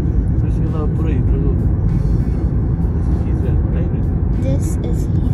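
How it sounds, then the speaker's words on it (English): Heathrow Airport bus engine droning steadily throughout with road rumble, close and continuous, with voices talking over it. "This is Heathrow Airport bus."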